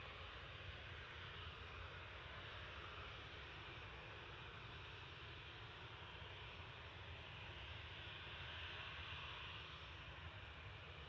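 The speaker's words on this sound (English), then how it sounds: "Here's our first Ryanair of the morning." Ryanair airliner at Manchester Airport, a steady broad engine roar holding at an even level throughout, fairly distant, with no voices.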